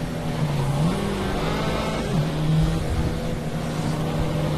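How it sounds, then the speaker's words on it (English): Car engine in a racing video game held against the rev limiter in third gear, a steady buzzing drone with small pitch dips as it bounces, loud and continuous with no talk over it. "I'm just bouncing off the rev limiter in third there."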